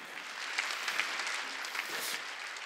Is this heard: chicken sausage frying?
no